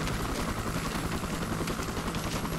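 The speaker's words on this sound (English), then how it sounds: "Get in the helicopter." A video game helicopter roars steadily and loudly with a dense rotor thrum and engine whine, close and unbroken throughout.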